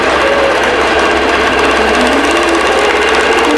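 A computerized IQ longarm quilting machine stitches a wholecloth quilt, humming loudly and continuously with a fast, even needle rhythm and a slowly rising motor tone.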